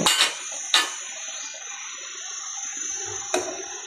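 Water heating in a cooking pot reaches a boil, giving a steady hissing, bubbling rush with a few sharper clinks or splashes. It is close and continuous, with no voices.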